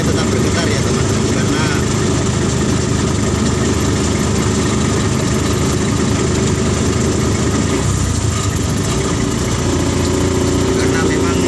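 A car fitted with a motorcycle engine idles loud and close, with a steady buzzing drone and constant vibration, and a voice talks over it.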